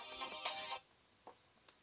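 A mobile phone ringing, a short bright electronic ring tone burst followed by a couple of faint ticks, quiet and close with no voices.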